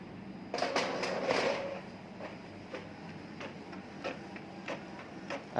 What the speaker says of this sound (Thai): ตอนนี้สั่งพิมพ์ไปแล้วนะครับ